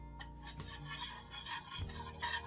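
Spoon scraping and stirring flour into a casserole mixture in a pan, a steady close rhythm of rubbing and clinking strokes with no talking.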